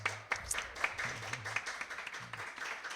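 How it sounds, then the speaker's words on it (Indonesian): Light applause from a small group in a podcast studio, soft scattered clapping at low volume with a faint voice underneath. "Tepuk tangan untuk Mas Surya."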